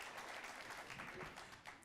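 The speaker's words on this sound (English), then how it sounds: "I'll take applause for that." Faint, steady applause from an audience at an opera talk, a dense patter of many hands sustained for about two seconds and tapering slightly at the end.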